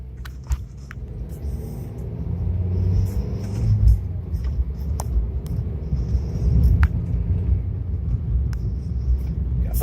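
A 2012 Toyota Yaris with a manual five-speed gearbox drives along, its engine and road rumble droning steadily and swelling slightly as it accelerates, with occasional clicks and ticks inside the cabin.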